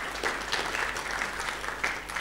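An audience applauds at the opening plenary of an annual learning event, a dense, steady wash of clapping from a large crowd across the whole stretch with small swells, no voices standing out.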